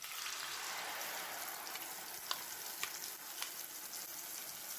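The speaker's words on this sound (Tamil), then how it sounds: "இப்போ நம்ம ஒரு கப்பில் அளந்து எடுத்திருக்க ஆப்பிள் விழுத சேர்த்து நல்லா கலந்து விட்டுக்கலாம்." Apple puree is stirred into apple halwa in a pan, giving a faint, steady sizzling hiss with a few soft ticks and clicks from the spoon.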